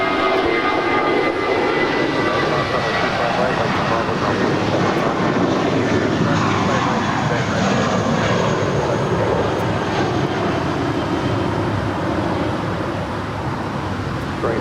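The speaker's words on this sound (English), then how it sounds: "That was Flight 953 heading to Detroit in an A320." An Airbus A320 airliner departing LAX roars loudly and steadily, a broad engine rumble that holds for the whole stretch and eases slightly at the end.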